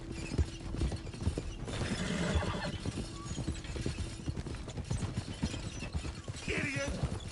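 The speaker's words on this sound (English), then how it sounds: "Can't you control that damn horse?" Horse hooves clip-clop at moderate distance in an irregular rhythm, joined by a whinny and some clattering, with quiet voices mixed in.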